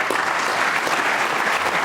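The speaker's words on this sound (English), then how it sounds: "As he pops the frame ball and gets a round of applause" A snooker crowd at the 2013 World Championship gives a round of applause after a frame ball is potted; brief, even, steady clapping filling the hall without talk.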